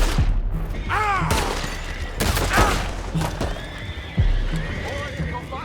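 Horses neigh and whinny repeatedly in Red Dead Redemption 2, mixed with hoof clip-clops and bursts of gunfire, while characters shout over the commotion.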